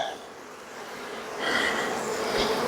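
Honey bees buzzing in an open hive during a hive inspection, a continuous close, dense hum that swells louder partway through, with no talking.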